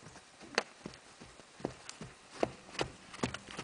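A horse walks during a groundwork training session, its hooves landing in soft, irregular clip-clops that sound close but fairly faint, with no talking.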